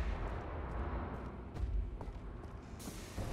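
Heavy booming cannon and artillery fire in the video game Wolfenstein: The New Order, several loud thumping blasts over a dense rumbling din of combat.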